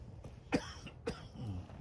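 Two sharp, husky coughs in quick succession, close and fairly quiet, followed by a brief throaty rasp.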